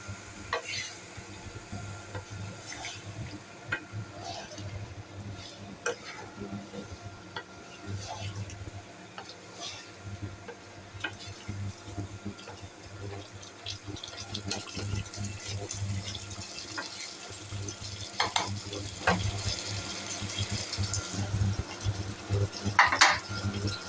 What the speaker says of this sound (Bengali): দুধ দিয়ে একটু কষিয়ে নেব।